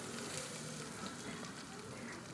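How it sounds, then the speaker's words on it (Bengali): Chopped tomato frying with potatoes in a pan gives a steady, even sizzle that stays at one close level the whole time, with no talk. "টমেটোটাকে আলুর সঙ্গে একটু ভাজা ভাজা মতো করে নিতে হবে"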